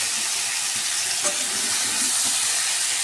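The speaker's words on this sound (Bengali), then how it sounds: "5 মিনিট একটু সাঁতলে নেব বা একটু ভেজে নেব যাতে কাঁচা কাঁচা ফ্লেভারটা না থাকে।" Pumpkin greens sautéing in a hot pan for chochori, a dense continuous sizzle and hiss with a brief stir clink, close and loud throughout.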